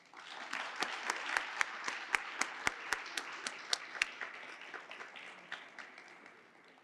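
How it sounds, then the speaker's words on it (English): A small group claps for several seconds, with crisp individual claps standing out before the applause thins and fades. "Could you all join me in giving them a round of applause?"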